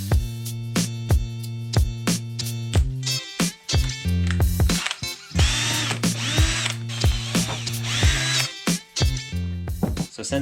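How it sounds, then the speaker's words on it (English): A power drill whines in repeated bursts drilling holes in a Honda CRF450RL motorcycle fender, starting and stopping with brief pauses, close by and loud, with some mechanical rattling between runs. "I thought I'd go ahead and drill these out"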